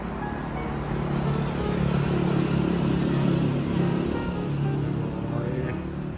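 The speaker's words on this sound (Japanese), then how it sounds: "車の音とかね、うるさいかもしれないけど" Cars passing on a road beneath an elevated railway line near a station, a low mid-volume engine rumble that swells and eases as vehicles go by, with no talking.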